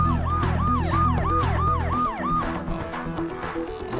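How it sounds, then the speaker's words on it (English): A wailing emergency siren in the video game Emergency 4 sweeps up and down repeatedly for about two seconds over a low engine rumble, then cuts off, leaving traffic noise. "just like hearing the sirens all the time"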